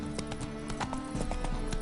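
Galloping hooves of the horse Roach in The Witcher 3 on PS4, a fast, steady clip-clop rhythm dense with game sound and music.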